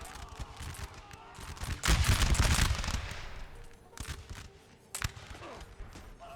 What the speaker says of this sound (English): The musket fire is amazing.